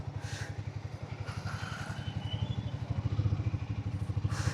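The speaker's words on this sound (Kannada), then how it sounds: "ಎಕ್ಸಾಸ್ಟ್ ನೋಟ್ ಮಾತ್ರ ಬಾಂಬರ್ ಆಗೈತೆ ಫುಲ್ಲು." Harley-Davidson X440 T motorcycle exhaust while riding, a steady, rapid low thumping engine pulse, close and continuous, rising slightly in intensity partway through with faint wind rush above it.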